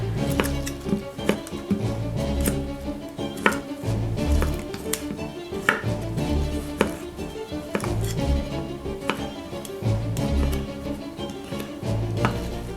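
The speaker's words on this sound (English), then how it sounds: "I'm going to cut it up into like little knobs, little pieces" Knife chopping picante chorizo into small bite-sized pieces for a stew, a steady run of close, quick taps on a board that continues without pause under a busy kitchen backdrop.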